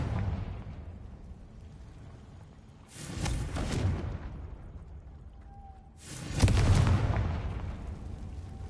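Two booming magical blasts from the Confringo spell in Hogwarts Legacy, each a sudden loud burst with a rumbling decay, spaced a few seconds apart over quiet ambient game sound.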